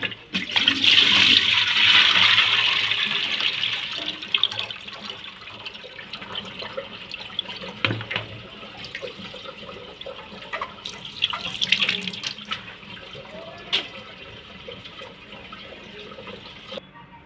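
Tap water runs in a kitchen sink while raw chicken is washed, a loud gushing stream at first that eases into softer splashing, trickles and occasional drips and clatters as the washing winds down.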